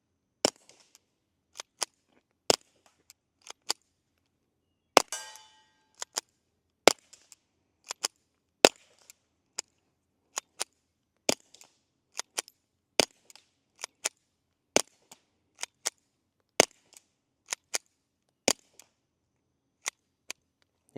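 A Ruger MKIV 22/45 Lite pistol fires a long string of quiet, sharp cracks, single shots spaced irregularly about a second apart, with a short clattering pause early on and no talk.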